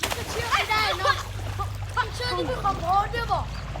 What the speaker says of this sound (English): the kids are playing the water and looking for fish